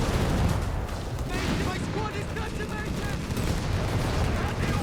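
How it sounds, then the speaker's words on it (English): Artillery bombardment in Company of Heroes 3, a DAK versus USF match, with explosions and gunfire crashing repeatedly at a dense, chaotic rhythm while a commentator talks over the din. "We got bombardment here."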